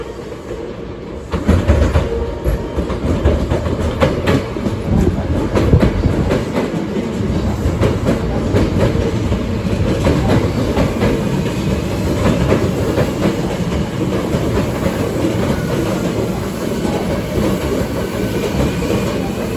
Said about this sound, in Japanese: 5号線に京都河原町方面に向かう電車が到着します。